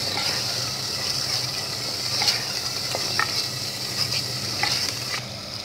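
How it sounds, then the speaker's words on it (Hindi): Spices stir-fried in a pan for an egg and potato dish, with a steady close sizzle and periodic scraping and tapping of the spoon, and no voices. "अब मसालों को अच्छी तरह भून"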